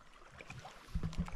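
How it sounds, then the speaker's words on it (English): Paddle strokes from a canoe on a quiet lake or river, two soft splashing pulls near the end over faint water and wind noise. "How long have we been paddling?"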